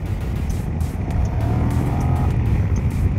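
Kymco AK 550 maxi-scooter accelerating hard, a steady loud engine drone rising in pitch and building over a few seconds, close by with wind noise and no speech.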